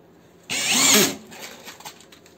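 A Parkside PSBSAP 20-Li A1 cordless drill drives a screw for about a second, a rising whir that stops abruptly as the clutch releases, then near silence.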